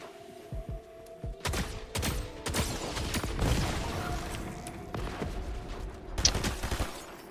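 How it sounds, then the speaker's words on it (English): Bazooka rockets fire and explode in Fortnite as a scattered series of sharp thuds and booms, some close and some farther off, over a quiet game backdrop. "They're shooting that stupid bazooka."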